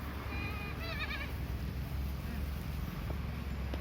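A young lamb bleats once, a brief wavering cry, against steady wind-like outdoor noise; no other animal calls follow.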